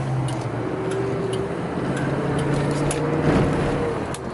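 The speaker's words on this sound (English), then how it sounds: "this thing downshifts, upshifts, and that motor just hums right away with it" A 1978 Cadillac Eldorado Biarritz, a barn-find luxury coupe, drives on a test drive while its engine hums steadily through shifts; a low, smooth, continuous drone with faint ticks and road noise, no talk.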